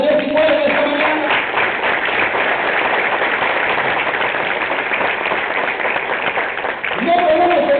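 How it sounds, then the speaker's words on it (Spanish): Worshippers in a church break into steady, loud applause for the Lord, a thick wash of clapping that holds for several seconds, with brief singing or voices at the start and end. "Denle un aplauso al Señor si puede esta mañana."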